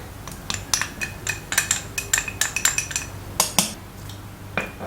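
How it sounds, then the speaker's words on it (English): Mortar and pestle pounding black beans into paste, a series of sharp clinking, tapping strikes in an uneven rhythm, close and fairly loud, with brief pauses between bursts. "I'm using the mortar and pestle."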